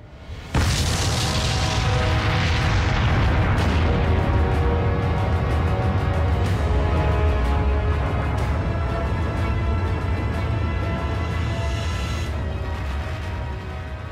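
A large explosion after a countdown erupts suddenly into a massive, sustained roaring boom that fills everything and rumbles on at high level, slowly fading toward the end.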